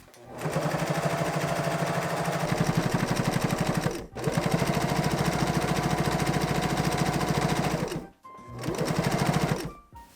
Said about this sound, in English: I'm going to sew the rubber band encased in like this and then stitch straight across.